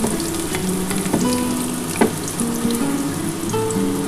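Onion, carrot and other vegetables fry in hot oil for egg chow mein, a steady close sizzle broken by occasional stirring clinks and scrapes, with no talking.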